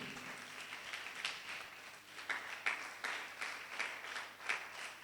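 At a French spelling and elocution contest between two classes, a modest audience claps in a loose, uneven patter. The applause is fairly faint and sounds somewhat distant, with scattered sharper claps standing out.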